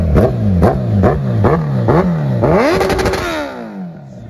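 A motorcycle fitted with a custom exhaust is blipped in quick repeated revs, about six rising and falling bursts, before one longer rev that fades away. The sound is loud and close.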